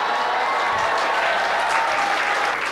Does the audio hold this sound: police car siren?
no